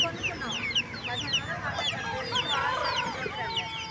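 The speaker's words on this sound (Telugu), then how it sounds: "వీళ్ళ దగ్గర ఆల్మోస్ట్ ఆల్ కోళ్ళు" Many chickens cluck and squawk at once at a busy poultry market in Nellore, a dense, continuous chorus of overlapping calls with voices in the crowd underneath.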